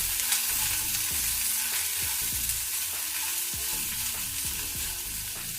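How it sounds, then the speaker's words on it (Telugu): Amla chutney being stirred with coarse salt in a pan sizzles steadily up close, while a spoon scrapes through it in repeated rhythmic strokes. "ఉప్పు వేసి ఇలా కలిపేసుకోవాలి."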